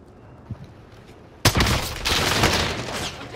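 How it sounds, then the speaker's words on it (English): Gunfire in a battle royale shooter, a sudden close burst of rapid automatic shots that keeps up in a dense, loud barrage after a quiet opening. "I'm taking fire!"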